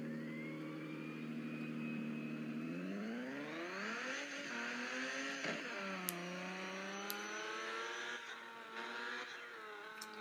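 A race car laps a track in a racing video game, its engine note rising in pitch through the gears with clear harmonic revving, shifting up and down as it accelerates and brakes, moderately quiet and with no voices.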